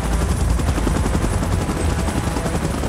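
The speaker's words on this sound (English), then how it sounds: "Chopper in position." Helicopter in a Mechagodzilla versus Godzilla and Kong fight, its rotor giving a loud rapid chopping thump under dense rumble and crackling gunfire-like bursts, continuous throughout.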